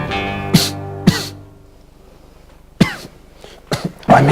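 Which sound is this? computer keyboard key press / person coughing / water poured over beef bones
person coughing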